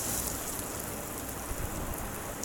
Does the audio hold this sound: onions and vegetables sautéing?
yes